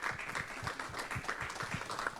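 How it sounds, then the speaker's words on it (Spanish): Applause from the audience for the speakers at a public health panel discussion, a steady, moderately loud patter of many hands clapping throughout with no pauses. "Quiero que le reiteremos un caluroso aplauso a nuestros ponentes."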